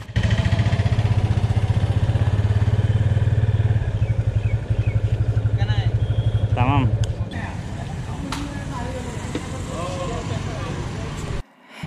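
A 250cc motorcycle engine while riding, a loud steady rumble that eases off partway through and cuts out abruptly near the end, with people talking over it.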